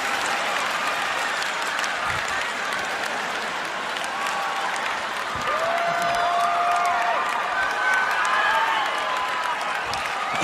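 A comedy club audience keeps up continuous applause with scattered cheers and whistles rising through it, full and even throughout, with a bright whistle-like tone sliding across the middle.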